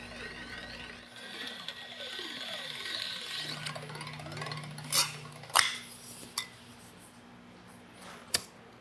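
Slip roll rolling sheet metal into a curve: a steady mechanical grinding hum with rhythmic whirring, then several sharp metallic clanks and clicks toward the end, near and fairly loud, with no speech.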